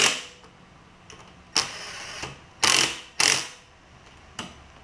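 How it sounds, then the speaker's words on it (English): Ratchet wrench tightening plastic fuel pump fasteners on a Kohler Command V-twin engine of a Lincoln Ranger 8 generator welder, heard as several short, close bursts of clicking pawl strokes separated by pauses. "Just gonna tighten these down carefully."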